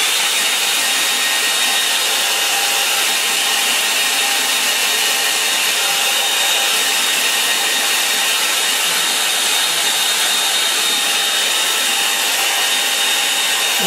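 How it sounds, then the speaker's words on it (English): A hairdryer blasts steadily at close range to dry watercolour paint on paper, a loud unbroken broadband whoosh that holds its level throughout with no talking. "So what I normally do is to fix it with a hairdryer."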